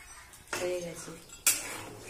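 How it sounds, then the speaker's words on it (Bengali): Curry of chicken kosha being tipped out of a cooking pot, heard as two sharp metallic clanks of pot and utensil with a scraping pour between them, close and moderately loud. "এবারে তরকারিটা ঢেলে নিচ্ছি"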